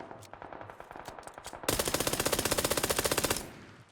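Glock handgun in PUBG fired without a laser sight, first as spaced single shots, then as a loud rapid burst of evenly paced gunfire for nearly two seconds before it cuts off.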